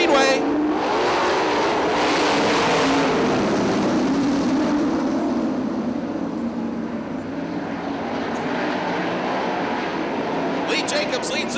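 410 sprint cars roar together around Fremont Speedway at the green flag, a loud continuous engine drone that eases slightly, with a voice talking over it.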